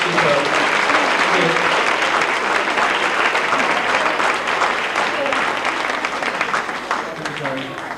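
A loud, dense round of applause for a pianist at a traditional step dance festival workshop showcase, sustained crowd clapping filling the hall from start to finish, with voices faintly mixed in.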